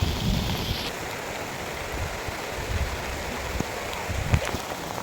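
Steady rain pours down outdoors during a rice harvest, a dense continuous hiss with low rumbling and a few scattered knocks and thuds. No one speaks.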